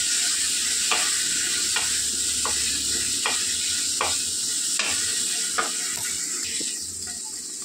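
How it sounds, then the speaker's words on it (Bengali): Spices frying in a pan with tomato puree, turmeric, chilli powder and coriander powder: a continuous close sizzle broken by regular scraping strokes of a spoon stirring the mixture, with no voices. "মশলাটা ভাজা হয়ে গেছে"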